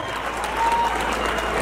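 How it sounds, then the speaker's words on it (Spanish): Crowd applause at a rodeo as a rider is introduced, steady clapping with a constant low background hum. "eche el aplauso"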